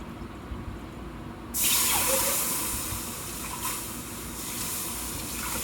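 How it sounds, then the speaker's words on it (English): Crab juice poured into a pot of seafood gumbo, a steady close gush of liquid that starts abruptly and runs continuously to the end. "I'm gonna put 2 cups of the crab juice"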